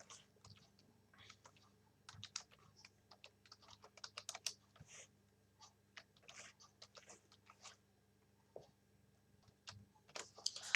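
Soft, scattered keystrokes tap on a computer keyboard while a résumé is written in Microsoft Word, coming in irregular clusters with pauses, faint and close, with no voice.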